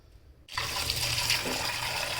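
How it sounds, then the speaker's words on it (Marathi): Water is poured onto potatoes in a pressure cooker. After half a second of near silence a close, steady splashing stream starts and runs to the end, with no voices. "थोडंसं पाणी घालायचं जास्त घालायचं नाही"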